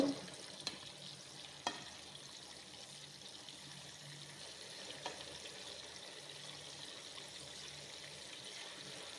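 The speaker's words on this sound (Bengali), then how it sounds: "মাছগুলো সুন্দর করে উল্টিয়ে পাল্টিয়ে ভেজে নেব" Fish fries in a pan of oil on low heat, a faint, even hiss with a few soft clicks of the pan or turner.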